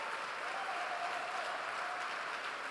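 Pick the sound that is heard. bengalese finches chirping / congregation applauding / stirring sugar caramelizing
congregation applauding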